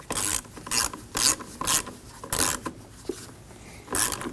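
A wrench tightens the positive battery terminal nut on a 2015–2022 Chevrolet Colorado, giving a string of short, rhythmic rasping ratchet strokes close by, each about a quarter second long with brief pauses between.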